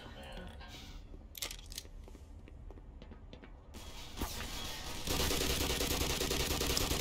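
Soldiers fire weapons at the player in the video game Black Mesa, with scattered sharp shots and rapid bursts that build into a dense, continuous barrage of gunfire.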